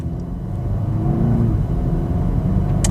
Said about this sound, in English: Let's clear this speed bump right here.